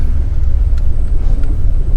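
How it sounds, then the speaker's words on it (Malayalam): Steady, loud rumble of vehicle traffic on a busy mountain pass road, the Pal Churam ghat in Wayanad, with engines droning continuously and nearby. "ഈ വഴി ഒരുപാട് വാഹനങ്ങൾ ഇപ്പോൾ കടന്നു പോകുന്നുണ്ട്"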